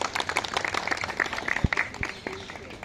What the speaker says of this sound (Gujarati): એટલે તપસ્વીની માટે એક વખત જોરદાર તાળીઓ પાડી ઉભી રાખો.